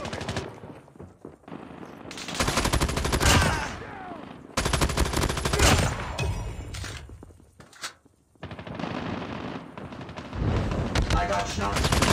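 Gunfire in Call of Duty: Mobile, with long loud bursts of rapid automatic fire broken by short pauses and some game voice lines mixed in.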